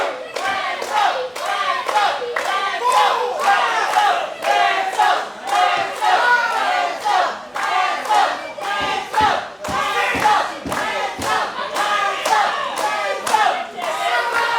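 A crowd at an independent pro wrestling show in Bacliff, Texas chants and cheers in rhythmic bursts, with voices rising and falling together and clapping mixed in, loud and continuous throughout.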